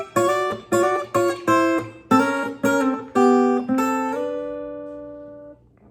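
Steel guitar intro in a country style: about eight plucked, sliding double-stop notes in an even rhythm, each ringing briefly, with the last one sustained and fading slowly, played alone and close.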